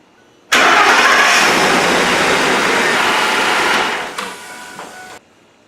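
A car engine with 90,000 miles on it abruptly starts and runs loud and steady, then its rumble eases off before cutting out.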